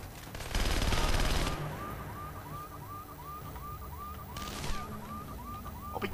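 Rapid bursts of video-game gunfire in Splinter Cell Conviction: a loud dense volley at the start, then a warbling alarm-like tone repeating steadily, and a second shorter burst near the end, all within a game mix.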